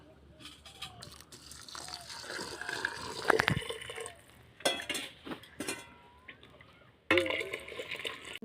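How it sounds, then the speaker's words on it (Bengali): Hot water is poured from a bowl onto rice in a pot while cooking chicken biryani, with splashing, sloshing and clinking of metal utensils against the pot, loud and close, with a voice speaking at points. "ছ বাটি জল গরম করে নিয়েছি সেই জলটা এখন এখানে ঢেলে দেবো"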